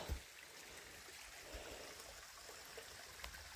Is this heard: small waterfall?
yes